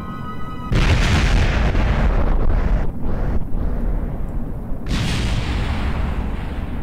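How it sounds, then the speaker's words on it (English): Rocket crash explosion in Kerbal Space Program, a sudden loud booming roar that swells into rumbling, wind-like noise and sustains for several seconds, with a second surge partway through. "Ready for the explosion."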